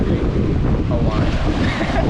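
Gusty wind at sea roars in a dense, continuous rush buffeting the microphone, with waves and surf mixed underneath and no clear break throughout.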